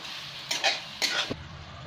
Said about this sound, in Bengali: একটু ভালো করে কষিয়ে নেবো সবজিগুলো সব একসাথে মশলার সাথে।